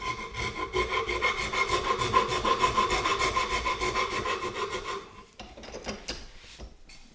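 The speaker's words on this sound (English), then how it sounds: "fancy filing on the floorboard" Rhythmic back-and-forth rasping of a hand file on a wooden floorboard for a motorcycle, steady strokes close by, ending with a few scattered knocks and scrapes.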